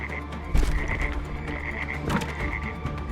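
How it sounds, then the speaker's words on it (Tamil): Frogs croaking in an animated drama, a steady chorus of repeated raspy croaks with a few louder thumps mixed in, no voices. "3 பக்கமும் தவளைகள் அவனை நெருங்கி வந்தது."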